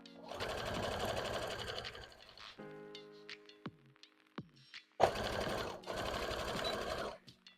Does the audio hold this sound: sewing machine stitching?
yes